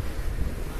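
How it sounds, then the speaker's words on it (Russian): Constant coastal wind buffeting the microphone outside a yacht club, a dense low rumble with broadband rushing noise throughout, no pauses. "Ветер здесь на побережье"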